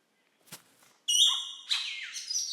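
A bowerbird calls in an Australian rainforest: faint clicks first, then a run of bright, close chirps and whistled notes.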